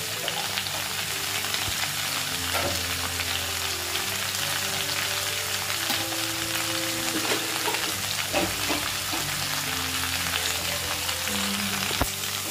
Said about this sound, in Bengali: একটুখানি ভালো করে সটে করে নিচ্ছি।